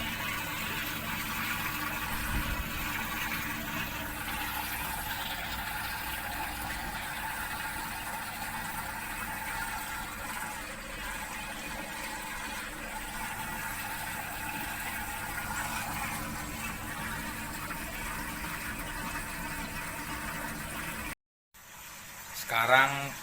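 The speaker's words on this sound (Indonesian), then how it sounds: "Sekarang posisi pompa udah running nih, filternya udah running, mesinnya udah jalan, airnya udah masuk, pompanya udah jalan" Inside an aquascape setup, a water pump and sump filter run with a steady wash and hum of moving water, constant and moderate, cut short by a brief dropout near the end while someone talks over it.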